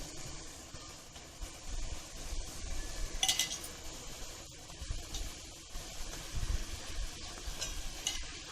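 Boiled eggs go into a masala for egg biryani and get stirred, with scraping and clinking of a utensil against the pan over a steady soft sizzle, no voices.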